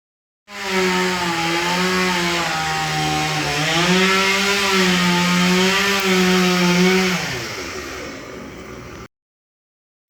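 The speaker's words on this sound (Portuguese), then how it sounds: "o meu vizinho trabalha com uma motosserra. Ele lida com ela para cortar pedaços de lenha para vender." A chainsaw cutting pieces of firewood, its engine droning steadily and loudly for about eight seconds with a slight rise and dip in pitch as it bites, then stopping abruptly.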